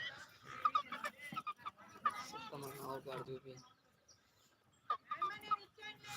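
A rooster clucks and gurgles in short bursts nearby, with a pause in the middle and people talking in the background.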